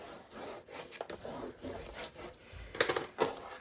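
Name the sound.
burnishing scored paper for mini album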